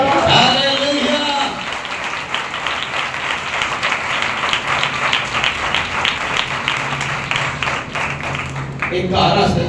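A church congregation at a Sunday service applauds in a steady, dense wash of clapping that stays loud for several seconds, with a voice heard at the start and end.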